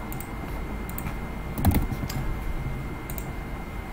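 Someone types a command on a computer keyboard, a short burst of soft, steady key clicks with a slightly louder cluster midway, heard alone over faint room noise.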